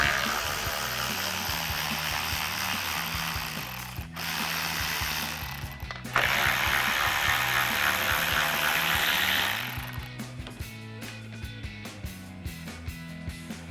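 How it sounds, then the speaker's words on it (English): A ratchet with a 10mm socket backs bolts out of a Ford Bronco, a close, steady run of rapid pawl clicking that changes pace a few times before breaking into slower separate clicks. "Now we can go ahead and remove our upper 2 10mm bolts using our 10mm socket and our ratchet"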